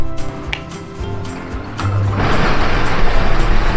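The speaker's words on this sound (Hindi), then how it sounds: "1 मिनट में कूलर ऑन कर लेता हूँ।" An air cooler switched on at home on a hot day in Malegaon, with clicks and handling noise before a broad steady whirring fan noise rises and continues loudly.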